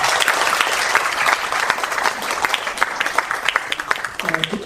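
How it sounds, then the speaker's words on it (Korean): At a Korean community forum in Sydney, an audience gives warm, dense applause to welcome guests from Hobart, Tasmania. The clapping is steady and close, with a voice beginning near the end. "박수 한번 부탁드리겠습니다"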